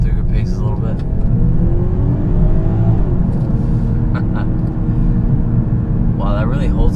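A 2020 BMW 740i in sport mode accelerates with a steady, loud engine rumble that rises in pitch and holds each gear, with people talking over the drive throughout.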